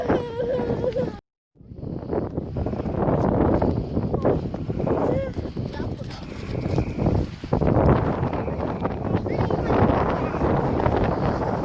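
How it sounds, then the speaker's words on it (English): Gusty outdoor wind buffets the microphone with a steady low rumble that lasts the whole time, cut by one brief dropout, while voices talk over it. "it's a bit windy, guys, so I hope you can hear this"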